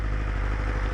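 A BMW S1000RR superbike's cooling fan roars loudly and steadily at close range, a dense continuous whir over the low hum of the idling engine.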